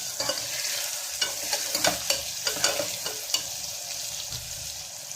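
A spoon stirs cinnamon, clove powder, dried fenugreek and turmeric into ridge gourd frying in a pan. Scraping taps come at an irregular pace over a constant soft sizzle, close by, with no talking.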